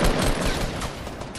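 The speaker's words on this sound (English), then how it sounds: "Shots." Rapid gunfire in Fortnite Battle Royale rattles out as a loud, dense burst of overlapping shots that lasts the whole moment.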